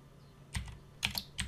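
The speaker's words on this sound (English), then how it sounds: "I'm going to type git clone." Computer keyboard typing in short bursts of keystrokes, three quick clusters spread over a second and a half, close and fairly quiet with no talk.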